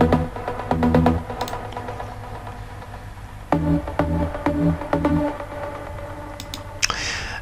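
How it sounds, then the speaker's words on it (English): Detuned trance pluck synth from Spire, with delay and reverb, playing short rhythmic plucked notes in a repeating pattern, bright and clear with no voices. "The main pluck comes from Spire rigging and sounds like this."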